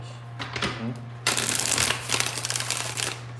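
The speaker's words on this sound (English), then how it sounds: "Three more shuffles." Tarot cards being shuffled by hand in a card reading, a series of quick riffling and sliding bursts close up, with a steady low electrical hum underneath and no talk.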